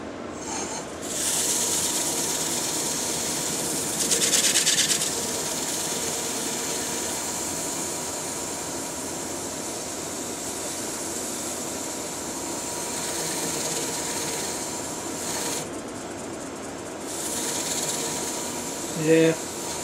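Wood lathe spins a sunken cypress platter during sanding, giving a steady whirring hiss with rubbing texture throughout and a few brief, louder scraping surges.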